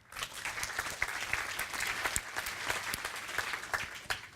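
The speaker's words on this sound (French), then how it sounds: "On applaudit." Applause from a meetup audience at a talk on JUnit and Docker, a dense, steady patter of many hands clapping close by that carries on evenly for several seconds, with no voices over it.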